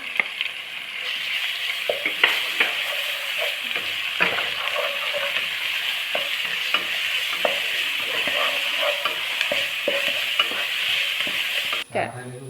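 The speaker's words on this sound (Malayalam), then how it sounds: "അപ്പോൾ അതിലേക്ക് നമുക്ക് വെളുത്തുള്ളി ഇഞ്ചി പേസ്റ്റ് ഇട്ട് കൊടുക്കാം" Garlic-ginger paste sizzles steadily in a hot pan for a home-style chicken curry, with frequent scraping stir strokes cutting through the continuous frying hiss up close.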